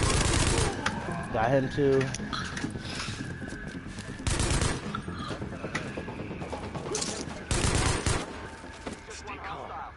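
A light machine gun fires in Tom Clancy's video game, loud bursts of rapid gunfire with mechanical clatter in between, while players talk over it.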